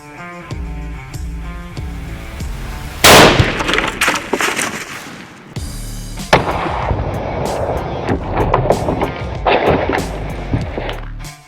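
A rifle fires a Hammer bullet into a ballistic gel block outdoors, with one sharp, loud shot cracking partway through. Clattering, handling noise and scattered knocks come before and after it, with no talking.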